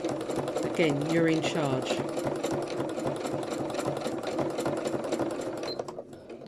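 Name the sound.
sewing machine stitching free motion embroidery slowly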